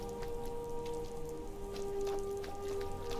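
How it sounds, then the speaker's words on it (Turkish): Rain falling in the Skyrim video game, a continuous patter of drops on surfaces with scattered sharper splashes, over a steady low tonal game ambience. "Oo, yağmur başladı. En sevdiğim Skyrim havası."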